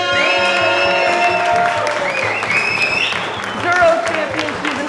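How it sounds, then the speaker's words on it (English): An audience at an adventure motorcycle trek event in Tasmania applauds and cheers loudly for a team, with whoops over sustained clapping while a voice carries on over a PA underneath. "give a big round of applause for Team Argentina"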